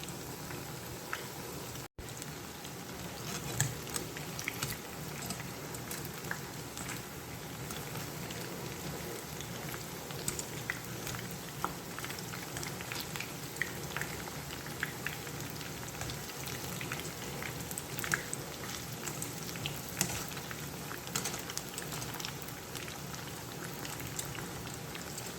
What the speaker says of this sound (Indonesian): Dan goreng kembang kol sampai matang.